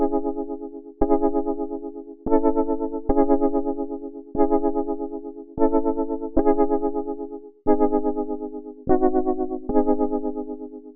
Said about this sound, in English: uses the analog tremolo piano preset from Omnisphere